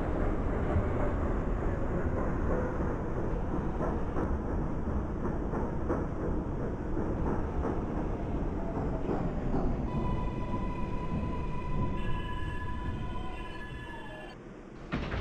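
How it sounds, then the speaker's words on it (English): A Queens-bound F local subway train runs through a tunnel in the openBVE simulator, a loud continuous rumble with rhythmic wheel clatter that eases into a slowing whine and tonal braking near the end. "This is a Queensbound F local train."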